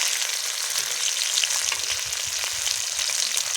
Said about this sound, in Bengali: কড়া করে মাছটা ভাজতে হবে।